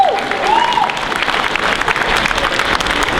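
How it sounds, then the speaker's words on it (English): Crowd at a Mauritius National Day flag raising ceremony at Toronto City Hall breaks into loud, close applause with scattered cheers and a brief whistle. "This is a proud moment, guys. Big round of applause."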